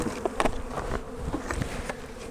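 Honey bees buzz loudly and continuously close by after a hive frame is shaken and banged, a dense droning swarm with a few sharper thumps near the start.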